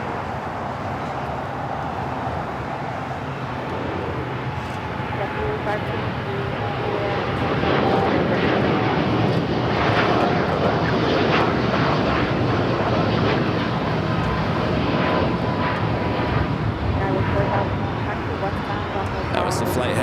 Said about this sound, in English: That was the flight heading to Tokyo Haneda.